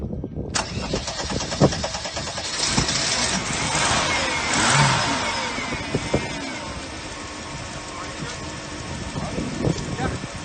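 Mercedes-Benz car engine cranking and catching after a jump start, then settling into a steady idle with a brief rev in the middle, heard close and outdoors with intermittent clanks and background noise.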